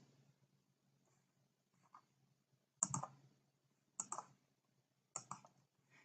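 Mouse clicks on a computer, a few crisp clicks spaced apart in a quiet room, close and faint, with soft handling noise between them.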